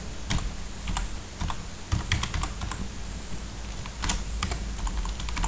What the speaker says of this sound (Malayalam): ഇത് ടൈപ്പ് ചെയ്ത് എൻ്റർ അമർത്തുന്ന സമയത്ത്